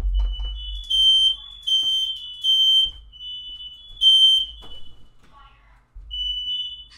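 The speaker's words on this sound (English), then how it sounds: "I think that might be a fire alarm going off." A shrill electronic fire alarm beeps in repeated bursts of about half a second, with a low rumble of background noise and a few faint voices.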